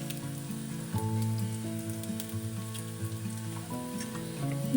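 Steady sizzling of green chillies frying in hot oil, a soft continuous crackle with no talking.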